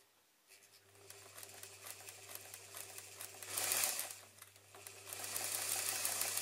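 A sewing machine fitted with a ruffler attachment forces fabric through its steel plates for a white ruffle skirt. It makes a steady mechanical whirring hum with fast rhythmic clatter that swells louder midway and again toward the end.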